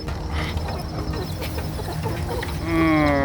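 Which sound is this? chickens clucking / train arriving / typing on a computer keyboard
chickens clucking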